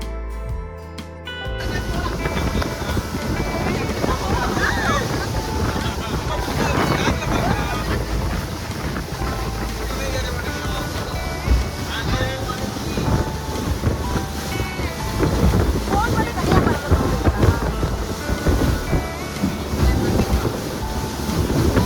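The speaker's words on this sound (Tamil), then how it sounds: "போட் இப்ப கிளம்பி போய்கிட்டு இருக்கு" A boat crossing the sea toward an island in Malaysia, with a dense continuous roar of engine, water and wind buffeting the microphone throughout, loud and close; faint voices may be mixed into the noise.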